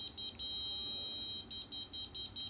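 An electronic buzzer beeps in a steady series of short pulses, high-pitched and clear, repeating at a regular moderate pace.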